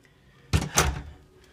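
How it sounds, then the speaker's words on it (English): A hotel room door pushed shut in a Hampton Inn, sticking before it closes: two dull thuds close together, the second slightly louder, then quiet. "Let me get this door shut."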